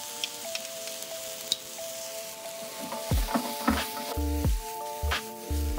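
Butter melting into mushrooms in a pan gives a steady sizzle and frying hiss, broken by a few sharp utensil clicks and knocks against the pan toward the end.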